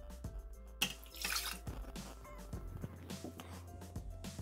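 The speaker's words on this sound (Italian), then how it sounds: "Iniziamo la ricetta mettendo all'interno del boccale l'acqua" Water poured into a Thermomix jar while starting a fried pizza dough, a soft, close trickle and splash with a few faint clinks, quiet overall.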